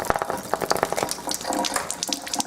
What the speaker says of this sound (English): now listen to the tap water